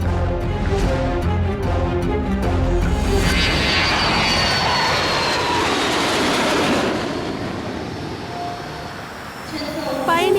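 A jet aircraft engine at an airport builds into a loud, sustained roar that swells and then eases off, with a few brief clicks and tones mixed in near the start.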